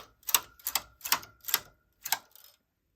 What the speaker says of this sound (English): rethread the carriage, take this off, knit across, yarn out of the carriage, needles forward